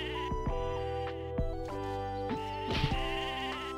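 Sheep bleating in the video game Mabinogi, a few short wavering bleats over a steady layered game music backdrop, fairly close and moderately loud with no talking.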